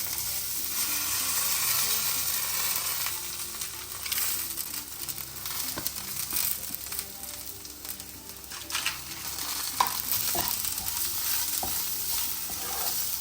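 Grated coconut and salt for pappad chammanthi stirred and roasting in a pan, with a steady soft sizzle and scraping of the spoon against the pan running throughout.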